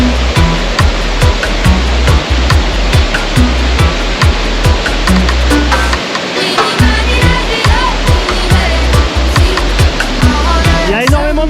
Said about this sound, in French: Et là on arrive à Ponggur Waterfall, d'autres cascades qui ont l'air vraiment magnifiques